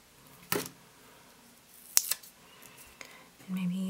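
Scissors snip through a paper planner sticker in a few sharp, separate cuts, close and crisp against a quiet room, followed by soft rustling and a brief hum at the end.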